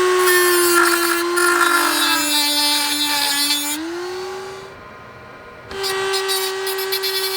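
A power tool cuts through excessively long bolts on a DIY sailboat project, giving a loud, sustained high-pitched whine that dips, pauses briefly, then resumes close by.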